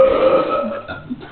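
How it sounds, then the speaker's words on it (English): A short, loud, close burp during a burping contest lasts just over a second, with a sustained guttural tone that breaks into a rough tail. There is no talking. "They're having a burping contest."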